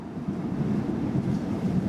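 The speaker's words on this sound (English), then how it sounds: "That's the sound of the metro you can hear in the background" A steady low rumble of a metro train passing at a distance runs continuously under gusty storm wind noise near an airport.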